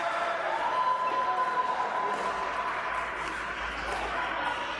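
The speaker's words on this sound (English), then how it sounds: "We have a loud cheering section." Loud cheering section at an indoor pickleball pro doubles match at the GTA Open, a steady dense wash of crowd noise and chatter filling the hall throughout with no break.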